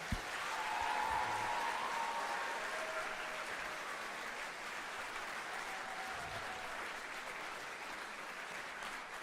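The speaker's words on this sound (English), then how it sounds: "Let's have a round of applause for everybody." Audience at a TEDx event breaks into sustained applause, a steady wash of clapping that holds at an even level throughout without talk over it.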